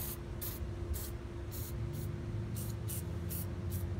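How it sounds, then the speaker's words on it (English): Penetrating oil sprayed from an aerosol can onto the front brake drum of a 1969 Chevrolet C10 in a workshop. About eight short, close hissing bursts come in a loose rhythm over a steady low hum. "tossed lots of penetrating oil on it"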